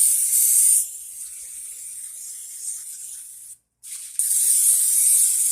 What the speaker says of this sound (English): take some sort of canola oil spray